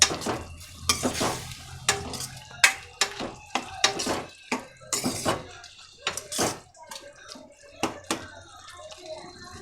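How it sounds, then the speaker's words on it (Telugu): Okra is stir-fried in a pan for a curry, with repeated sharp scraping and clattering strokes of a spatula over a light sizzle, close and uneven in rhythm. "బెండకాయలు అన్నీ వేసుకున్న తర్వాత ఈ విధంగా ఒకసారి అన్నీ ఫ్రై చేసేసుకుందాం"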